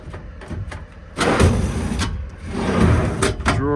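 A drawer in the Adkins 11-foot service bed of a 2015 Ram 5500 truck slides open with a scraping rumble that needs lubrication, followed by a few sharp knocks, heard up close.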